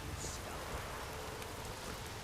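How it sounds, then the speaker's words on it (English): Steady rainfall in The Witcher 3 game world, a dense, even hiss of falling drops with no gaps, moderately quiet and continuous, without voices. "raining again."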